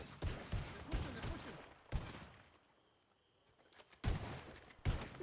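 Bursts of gunfire from a role-play video game shootout, with sharp clustered volleys at the start, a lull in the middle, then more shots near the end, mixed with voices.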